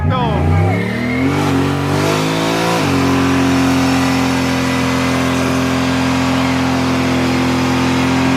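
Car engine revving hard during a tire burnout beside a monster truck event, a loud roar climbing in pitch then settling into a steady high drone, close, with people talking over it.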